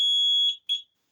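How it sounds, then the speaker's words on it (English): An Old Dog Electronics mini house alarm set off by its panic button sounds a piercing, high electronic tone, one long sustained beep followed by a short second blip, loud and close. "So let's just press the panic button."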